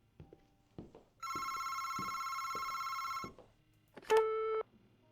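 A telephone rings in the video game Paperback, a long trilling ring followed by a shorter second burst, with soft clicks and small thumps around it and no speech.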